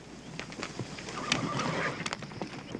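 Horses near a ranch snort and whinny amid scattered hoof thuds and shuffling, moderately close, with a quiet voice briefly underneath.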